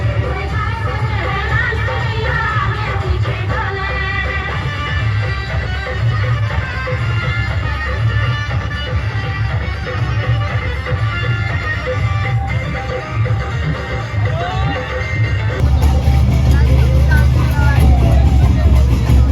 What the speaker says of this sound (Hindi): गाइस देखो भीड़